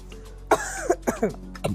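A person with a cough lasting more than two weeks coughs several times in a quick, rough series, close and fairly loud.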